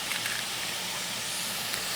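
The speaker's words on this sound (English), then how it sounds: "sauteing up beautifully, beautifully, beautifully" Ingredients for oyster dressing sauteing in a hot pan give off a steady, even hiss that runs unbroken for the whole stretch, with no one talking.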